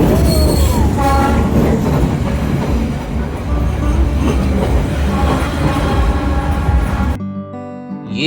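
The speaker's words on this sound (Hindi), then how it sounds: "15-20 मिनट वेट करने के बाद फाइनली फिर ट्रेन आई।" Real train rolls loudly down Hanoi's narrow train street right past the listener, wheels clattering and squealing continuously before the sound cuts off abruptly near the end.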